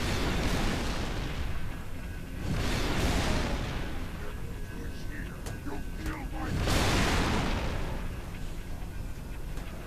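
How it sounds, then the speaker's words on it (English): Wraith tank plasma cannon shots against Brutes in Halo 3 on Tsavo Highway land as three heavy, booming blasts spaced several seconds apart, each with a long rumbling tail, under continuous game noise and people talking. "the Brutes are going to die pretty easily from a single Wraith shot"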